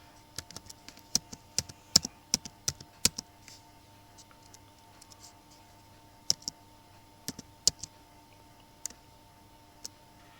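Typing a Gmail password on a computer keyboard: a sparse run of sharp, close key clicks in irregular bursts, with pauses between them, over a faint steady hum and no talk.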